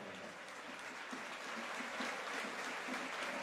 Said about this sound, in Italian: Gli applausi del De Simone per Marco Palermo, disperato,